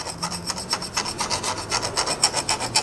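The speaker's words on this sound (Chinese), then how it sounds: "那我现在就用锉刀把它磨一磨吧" A hand file rasps back and forth against a scooter piston from a Yunbao 200 engine, close up, in a quick steady rhythm of about twenty strokes.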